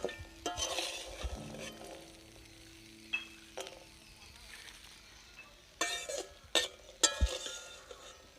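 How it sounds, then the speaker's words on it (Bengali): Peanuts fry in a pan, quietly sizzling while a spoon scrapes and stirs, with intermittent clinks and rattles that grow busier toward the end. "বাদাম ভাজা হয়ে গেছে।"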